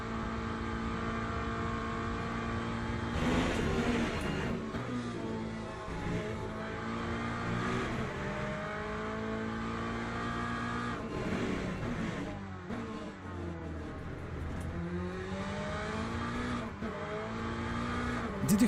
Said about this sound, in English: Did you hear that upshift from first to second?